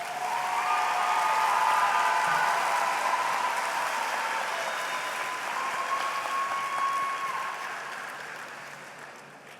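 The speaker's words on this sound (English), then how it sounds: "Let's give them a nice round of applause." An audience at a Destrehan High School graduation applauds in a sustained, loud wash of clapping that swells early and slowly fades toward the end, with no voices over it.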